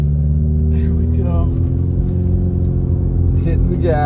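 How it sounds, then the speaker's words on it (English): A car drives up a snowy road at Big Bear Lake. Its engine rumbles and hums steadily, heard from inside the cabin while people talk. "Hitting the gas."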